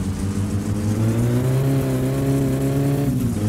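A loud car engine from the game My Summer Car drones and revs in a steady, continuous whine, pitch rising slightly before dipping near the end, with no talking.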